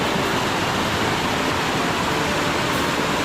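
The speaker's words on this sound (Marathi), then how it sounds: "इथे सुद्धा पाहू शकता किती जोरदार पाणी आलं इथे" A swollen stream in heavy monsoon rain, with strong rushing water that roars as a loud, steady broadband wash, close by and continuous, with no voices over it.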